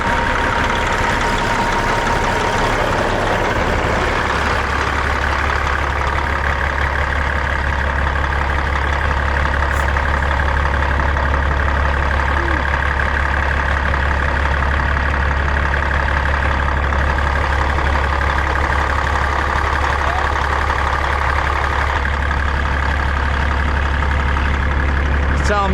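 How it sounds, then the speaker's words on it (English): An old truck's engine idles steadily and loudly throughout, a deep continuous rumble with a constant hum and no voices. "this is my old truck."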